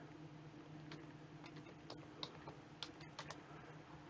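Keystrokes tap on a computer keyboard while data is entered into a database program, in irregular bursts of close, quiet clicks with short pauses and no talking.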